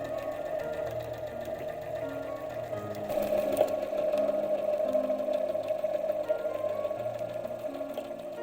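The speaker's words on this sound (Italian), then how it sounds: "Cucio la fodera e l'esterno." A sewing machine stitches a corset's lining and outer fabric together in a steady, continuous hum that runs the whole time, close and fairly loud, with a slight surge partway through and no voices over it.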